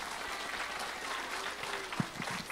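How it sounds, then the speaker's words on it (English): An audience at a church gathering claps to welcome a guest speaker, a steady, fairly soft patter of many hands with a few nearer, sharper claps toward the end. "So do you know how to clap and welcome somebody?"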